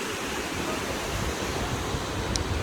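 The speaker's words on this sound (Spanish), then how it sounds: "nos encontramos en esta cascada aquí en Colorado" A waterfall in a high canyon in Colorado, with a river running below, gives a steady broadband roar of falling water, loud and unbroken and heard alone throughout.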